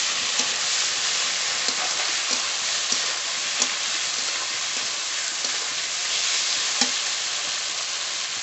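Spiced potatoes frying in a pan for katla fish curry, a continuous dense sizzle with occasional soft stirring taps, close and even throughout.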